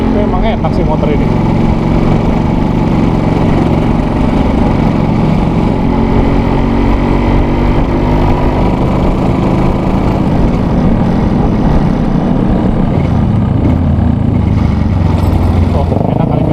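Yamaha RX-King motorcycle engine running while riding, a constant loud close drone with wind rush throughout, with people talking over it.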